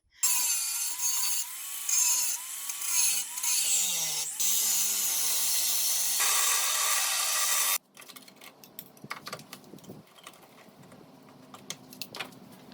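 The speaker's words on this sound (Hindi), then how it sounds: "से पूरा रस्टेड पोर्शन अभी मैंने काट दिया" A power cutting tool grinds away the rusted body panel of a Mahindra Scorpio, a loud harsh whining screech with pitch dips as it bites the metal for several seconds, then stopping, followed by quieter scraping and clattering.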